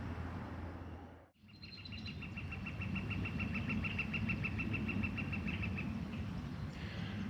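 Birds sing at the Maud Roxby Bird Sanctuary, a repeated high chirping call rising over steady outdoor ambience, with a brief dip near the start and other faint calls behind it.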